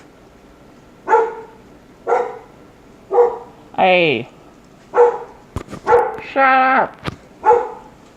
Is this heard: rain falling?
no